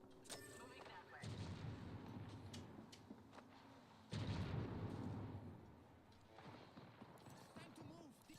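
Gunfire in the video game Apex Legends comes as bursts of shots and impacts, loud and close, mixed with other game effects and voices talking over the action.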